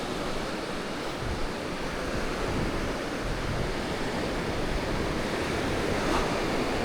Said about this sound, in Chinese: 因为今天浪很大，船后来都是被浪一点一点推上来的。